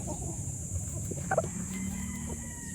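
An F1 offspring of an imported Golden Boy rooster gives a short, mid-distance call in the middle of steady low farmyard background noise, with no talking heard.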